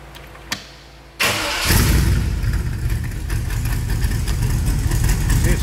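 A 1923 Ford Model T T-Bucket hot rod starting in neutral, a brief click and cranking before the engine catches abruptly and settles into a loud, steady close-up idle.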